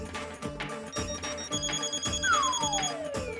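A mobile phone left behind at home rings with a repeating electronic ringtone melody in a steady rhythm, fairly loud and close, with a sliding comedic sound effect laid over the ring in a sitcom scene.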